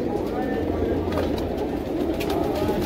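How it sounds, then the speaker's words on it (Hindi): Sharangpuri pigeons coo softly in a home pigeon loft in Kurla, Mumbai. Low, continuous cooing is heard close by over background noise, with a few faint higher chirps. "आप देख सकते हो कबूतर।"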